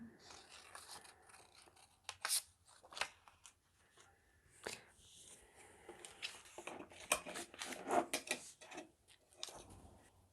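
Scissors cutting through a paper journal template, giving close, crisp snips and rustling paper handling in irregular bursts over about ten seconds, with no voices.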